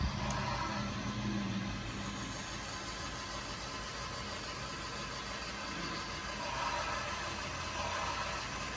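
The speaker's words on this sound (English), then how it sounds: "move this engine out, speed step 1 onto the turntable" A steady, unbroken mechanical drone from the sound system of an MTH GP38 model diesel locomotive as it moves at its lowest speed step onto a turntable, with no pauses or speech.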